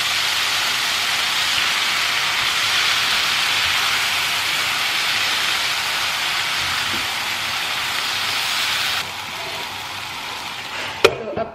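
Mixed vegetables with tricolour bell peppers and sliced tomato cook in a lidded pan over a low flame, giving a steady soft hiss and crackle that runs evenly throughout, with a brief clatter near the end.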